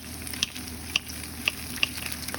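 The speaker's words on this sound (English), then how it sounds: "cook the onion for 5 minutes here until it softens up a little bit" Onion softens in a hot pan while cooking lomo saltado, giving a steady, moderate sizzle with a few sharp pops and spatters spaced through it, close and uninterrupted by speech.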